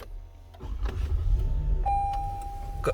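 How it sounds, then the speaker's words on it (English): A Lexus RX engine starts with a low rumble and settles into a steady idle, with a clear dashboard chime tone sounding partway through. "All you're gonna do is start the car."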